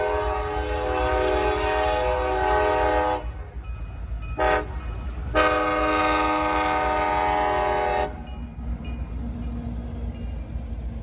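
A local freight train at a Muncie crossing sounds its horn loud and near: a long blast, a quick short toot, then another long blast, followed by steady rumbling of passing railcars.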